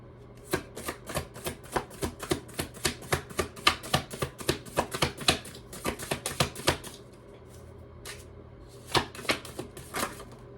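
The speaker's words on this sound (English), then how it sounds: "it's kind of hard to hold it all at once and shuffle right" A tarot deck being shuffled in split halves: rapid runs of crisp card riffles and taps, then a pause and a few final taps, close and fairly quiet with no talk.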